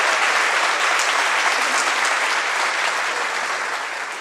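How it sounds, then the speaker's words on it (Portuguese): A church congregation applauds loudly during an evangelical Portuguese sermon, a dense, continuous wash of clapping that tapers slightly toward the end. "dê glória a esse Deus e aplauda ele com força e alegria"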